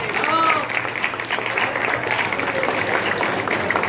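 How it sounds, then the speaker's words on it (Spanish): An audience at a talk applauds, steady clapping that fills the room throughout, with a voice speaking over it at the start. "Fuerte aplauso."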